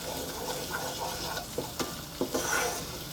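A flour roux for moussaka sauce is stirred steadily in a pan, with a soft sizzle under repeated scraping strokes of the spoon, close up and with no voices.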